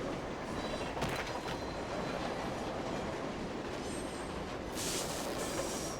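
A train running in the video game 428: Shibuya Scramble, with a continuous rolling rumble of wheels on track, a brief rattling clatter and a brighter squealing burst near the end, heard alone.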